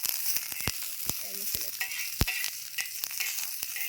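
Muddi palya, North Karnataka wedding style, fries in oil on a pan with a soft continuous sizzle, broken by sharp, irregular clicks and scrapes from stirring.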